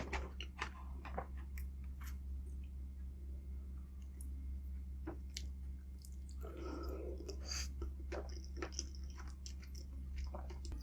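Someone eating an egg up close: scattered soft bites, moist chewing and small clicks over a quiet background, with a brief louder squishy burst midway and no speech.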